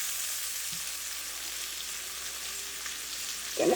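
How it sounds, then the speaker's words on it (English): Pork chops slow-cook in butter in a pan, giving a steady, even sizzle with a soft crackle that holds throughout, a brief clatter near the end. "I'm just slow cooking these chops"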